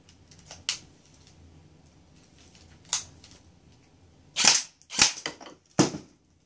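Gunshots fired at a 3D target dropper set for two shots, with sharp loud cracks around the middle and end of the stretch, plus fainter clicks and mechanical knocks between them.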